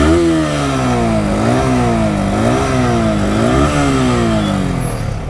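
A motorcycle worth 800,000 taka, set in racing mode, revs close by with a loud, throaty engine note that rises and falls in repeated surges, with no speech.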